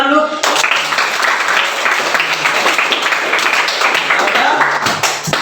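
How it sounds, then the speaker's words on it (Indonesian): A class of primary school children in an Indonesian classroom bursts into lively applause, a dense, close patter of many small hands clapping steadily for several seconds. "Tepuk tangan dulu."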